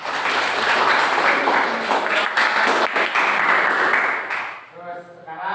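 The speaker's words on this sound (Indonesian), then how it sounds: "Silakan kasih tepuk tangan." Audience applause in a classroom teaching session, a steady dense wash of clapping that fades out near the end.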